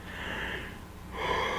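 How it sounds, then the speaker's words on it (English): A drawn-out yawn with breathy inhalation and a faint wheezy tone, quiet and close, rising again near the end with no talk. "I'm yawning again."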